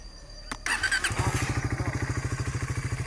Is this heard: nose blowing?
no